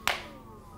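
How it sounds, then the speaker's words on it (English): A single sharp hand clap lands near the start of a family cardio workout, crisp and close, then fades into quiet room tone. "Clap, clap. Let's take it up a notch."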